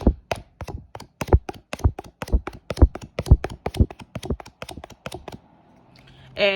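A rapid run of crisp, dry taps on a varnished Gypsy oracle card deck, about two dozen in quick succession before it stops.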